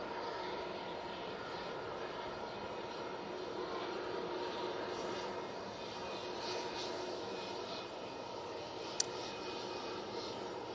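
Aircraft taxiing at Manchester Airport, a steady far-off engine drone and hum that holds throughout, with one brief sharp click near the end.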